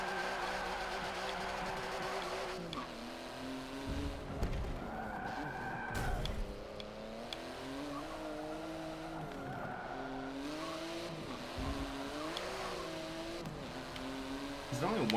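A car drifting in the racing game Forza Motorsport 7, tires squealing and skidding over a steady engine drone that rises and falls in pitch, with a few sharp bursts, continuous for the whole stretch with faint talk beneath.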